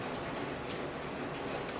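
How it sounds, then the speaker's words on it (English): Steady rain falls outdoors, a continuous broadband hiss of drops pattering on surfaces, even and fairly loud across the moment with no voices over it. "that's what that noise is, rain."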